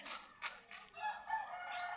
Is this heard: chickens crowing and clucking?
yes